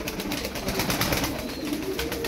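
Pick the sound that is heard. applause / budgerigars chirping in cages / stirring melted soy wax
budgerigars chirping in cages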